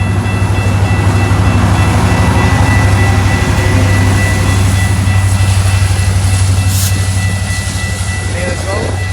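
Close and loud, GO Transit MP40 engine 618 rumbles past at Bradford GO station, with a heavy diesel throb and rhythmic wheel clatter that ease off slightly toward the end, under occasional talking.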